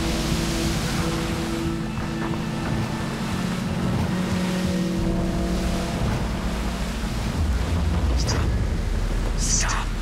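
Boat engine out on the sea in the shooter Battlefield Bad Company 2, a steady droning hum under rushing wind and water noise, continuous and fairly loud, with voices talking over it.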